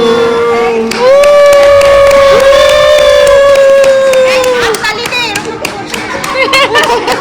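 Guests at a birthday party clap and cheer together in a lively burst, with a sustained tone and excited voices and children chattering around the applause.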